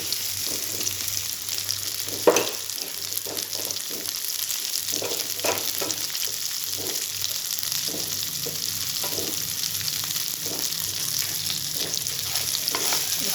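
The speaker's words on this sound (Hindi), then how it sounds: "अब इसके अंदर डालेंगे भेंडी।" Okra fries with chillies in a pan, giving a loud, continuous close sizzle with repeated scraping stirs and one sharp clank of a utensil early on.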